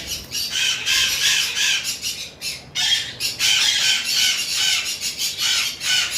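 Blue and green fourpass pigeons raise loud, harsh squawking and flapping commotion nearby, continuous with brief dips, no voices.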